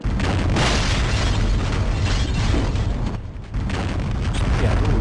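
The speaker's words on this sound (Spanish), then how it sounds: "mira la bomba. Están reventando todo el complejo" Heavy bomb explosions tear through a research complex in Half-Life VR, a dense, continuous roar of booming blasts with a brief dip before the rumbling surges back, loud and close with no voices.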